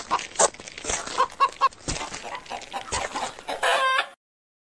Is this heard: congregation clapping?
no